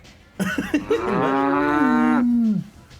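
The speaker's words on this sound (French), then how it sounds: "Et il y a une vache qui passe" A cow sound effect plays during a tabletop role-playing game session: one long, loud, close moo that rises from a couple of short grunting starts into a sustained, drawn-out bellow, heard on its own.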